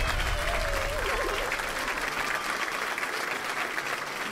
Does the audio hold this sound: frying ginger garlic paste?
no